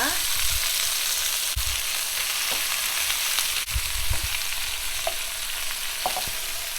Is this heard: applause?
no